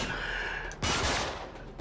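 A burst of Uncharted 3 gunfire hits midway as a sudden, loud, broad blast, rising over an already noisy, rushing game background.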